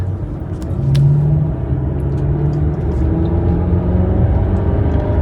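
A Range Rover engine holds high revs in rock crawl mode while creeping along slowly, a steady loud drone with a rising tonal whine that runs unbroken under no talk.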